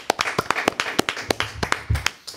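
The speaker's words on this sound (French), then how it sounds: "On applaudit Johan." A small audience claps in a sparse, uneven rhythm of distinct individual hand claps on a French entertainment show, close and fairly quiet, with faint background murmur.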